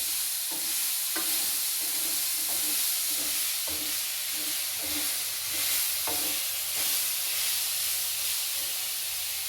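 Cumin seeds sizzle and fry in a kadai, a steady bright hiss with repeated scraping taps from a stirring ladle at an uneven rhythm, close and with no one talking.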